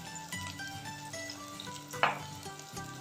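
Paneer, green chillies and spices sautéing in hot oil for paneer peas pulao, a steady close sizzle with stirring scrapes and one sharp utensil clink partway through, no voices.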